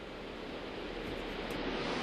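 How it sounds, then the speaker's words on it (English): Rain heard while underwater in Minecraft, a steady, muffled broadband hiss and wash, constant and fairly quiet throughout with no voices. "Always rains. Even under the water you can hear it."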